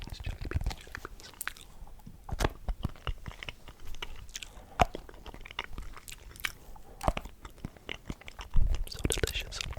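Popping candy and jelly beans are chewed close up, sharp crackles and wet crunching bites sounding irregularly between quiet, soft mouth noises, with faint speech in places.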